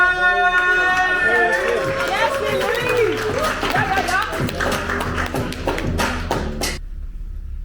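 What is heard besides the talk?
audience applause for Christopher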